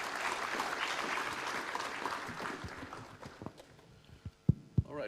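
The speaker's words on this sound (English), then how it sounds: "A round of applause to her again," A room of people applauds a bank representative at a university careers event, the dense clapping fading over a few seconds into scattered last claps, with a couple of louder thumps near the end.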